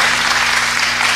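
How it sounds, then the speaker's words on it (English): An audience claps in a dense, loud, continuous burst at a talk event, an even wash of many hands with no voices over it. "y'all go clap for that."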